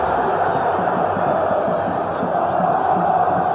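A football stadium crowd roars and cheers as the ball is hooked forward, a dense, continuous wall of massed voices heard from within the stands, loud and sustained throughout.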